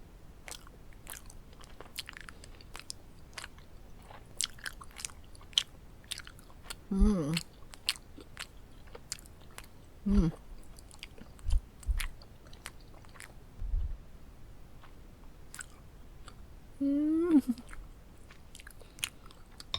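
Someone in a zombie role chews a jello brain close to the microphone. Sparse, wet bites and squishy chewing come through in a quiet room, broken by a few low murmured vocal sounds.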